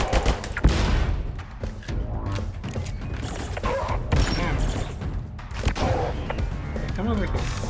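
An automated turret in a video game fires bursts of rapid shots with mechanical thuds, mixed with other game noise while a person talks over it.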